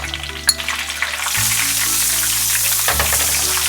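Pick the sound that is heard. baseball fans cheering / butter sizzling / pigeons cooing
butter sizzling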